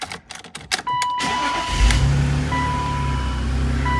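A 2000 BMW Z3 Roadster cranks and fires up with a loud catch, then settles into a steady, close mid-pitched idle that hums on alone.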